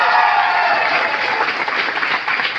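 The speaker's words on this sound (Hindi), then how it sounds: "दिल खोल के ताली बजाओ" A seminar audience claps together in a dense, steady burst of applause, loud and close, with no voices rising above it.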